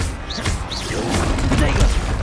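Fiery explosion spell blasts from the Hogwarts Legacy video game, a few booming bursts with crackling tails in close succession, mixed with other spell effects and a voice speaking.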